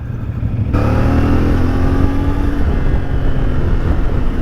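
A CFMoto 450MT motorcycle engine pulls under throttle, recorded onboard while riding behind a bus, rising abruptly into a loud, steady engine roar mixed with wind rush.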